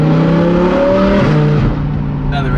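A straight-piped Audi R8 engine revs loud and close, its droning tone rising and dipping before easing off, with a brief higher whine near the end.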